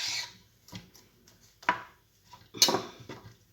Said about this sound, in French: On coupe donc les extrémités.